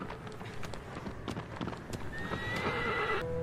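Horse hooves clip-clopping at a gallop with a whinny in Shadow of the Colossus, steady hoofbeats under game music with a rising tone near the end.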